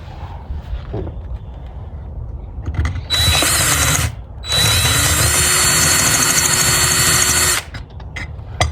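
A power drill whirs loudly in two bursts, a short one then a longer steady run, grinding into metal with a high whine.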